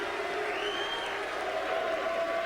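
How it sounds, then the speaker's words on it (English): Studio audience at a televised competition show applauding and cheering, a dense steady wash of clapping and crowd noise throughout, fairly loud and continuous with no talk over it. "Listen to the crowd."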